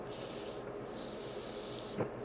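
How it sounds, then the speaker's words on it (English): Steady hand sanding of a natural-edge wooden bowl with 120-grit sandpaper, a continuous rough scratchy rubbing with a brief pause midway and a small knock near the end, no talking. "I'm going to start with the 120 grit here"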